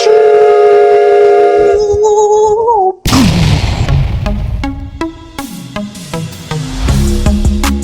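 A synthesized train sound effect opens with a sustained multi-tone whistle that bends down, then gives way after a brief gap to loud rumbling and a run of bright, stacked musical tones, with no talking.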